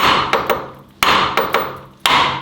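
Hammer striking a car suspension part on a Mégane RS during chassis work, with sharp metallic blows in a quick, uneven rhythm, roughly one strong hit every half second, loud and close with ringing decay.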